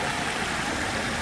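A small waterfall on a stream running toward the sea sends out a steady, full rush of flowing water, close and continuous with no voices.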